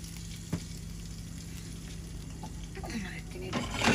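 Oil poured into a pan for chicken leg piece bhuna sizzles and crackles moderately, with clinks of utensils and a swelling hiss near the end; a voice talks over it.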